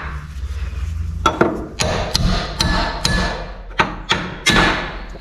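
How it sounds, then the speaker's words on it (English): A chisel is struck with a hammer to drive a rusted shock absorber off a Toyota Hilux, about seven sharp metallic blows with uneven gaps, close and loud over a low background hum. "Correct use of a chisel to get a shock off that."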